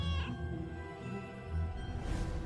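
A cat meows in a video game, a short drawn-out cry heard over layered game music and background sound that lasts throughout.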